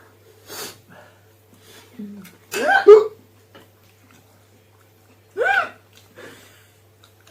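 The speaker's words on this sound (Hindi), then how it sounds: "मेरी हिचकी तो आ रही है।" A person with hiccups gives a few short, sharp gulping catches spread out over several seconds, separated by quiet pauses, fairly close.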